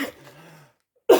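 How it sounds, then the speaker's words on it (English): A single short cough, sharp and close, heard after a moment of faint murmuring and a brief silence. "Well, you had me coughing."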